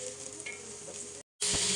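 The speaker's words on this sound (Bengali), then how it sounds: "এই তো মশলাটা কষিয়ে দিচ্ছি" Spices sizzle as they sauté in a pan of fried onions for a fish curry, a steady close hiss with stirring that briefly drops out and then returns louder.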